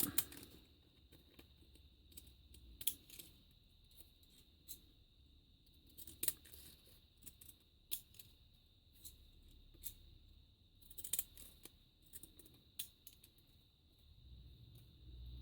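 Scissors snip apart narrow handmade paper ruffle strips, a string of faint, sharp cuts at irregular intervals over quiet background noise, with no talking.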